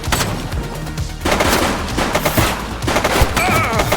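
Dense automatic gunfire and scattered shots ring out in a chaotic street firefight in the police game Precinct, loud and sustained, with brief voice fragments under the shooting.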